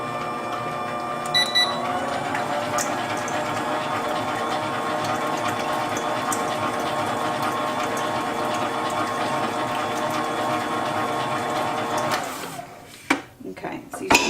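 An electric mixer whirs steadily while beating eggs with sugar for a chocolate cake, a loud continuous mechanical drone that stops abruptly near the end with a few clatters.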